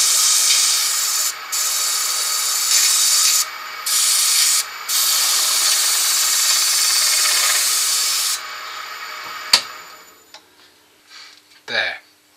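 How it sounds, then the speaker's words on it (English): Airbrush spraying paint onto a large turned wooden inside-out sphere tealight holder, a steady close hiss broken by short pauses, then stopping, followed by a few light clicks and handling noises. "Right, I'm done with the airbrush now"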